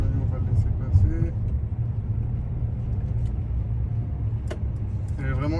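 A Mercedes V-Class 300d diesel rolls slowly along a road toward a stop sign. A low, steady cabin rumble continues throughout, with a voice speaking quietly inside.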